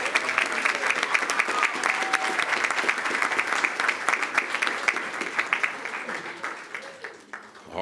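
Audience at a school board meeting applauding high school athletes as they enter the room, steady dense clapping from a roomful of people for several seconds, tapering slightly near the end.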